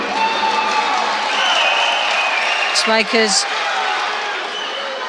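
Judo arena crowd at a Grand Prix event in Tbilisi, heavyweight plus-100 kg contest, roars and applauds steadily throughout, a dense continuous wash with a commentator talking over it and a brief whistle-like burst near the middle.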